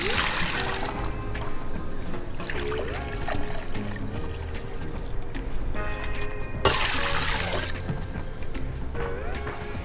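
Vinegar pours into a pot for sweet and spicy pickle brine, a steady liquid stream with trickling and splashing, close and fairly quiet, with a couple of brief louder bursts and no talk.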